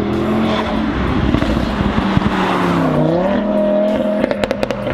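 A car roars past on a track, its engine note rising loud and near with a sliding pitch as it approaches and passes, ending with a few sharp clicks.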